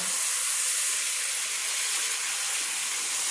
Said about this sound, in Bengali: এবার আমি দিয়ে দিচ্ছি সেই মশলার জলটা।